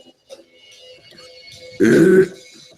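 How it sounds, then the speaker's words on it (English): A single loud, throaty burp erupts during a live-stream podcast after a moment of quiet, brief and close. "I just burped."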